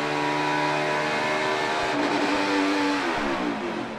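A NASCAR Cup race car at Pocono over-revs past 10,000 RPM after a missed shift from third into second gear. The loud, sustained engine scream holds steady, then its pitch jumps and wavers midway before easing slightly at the end.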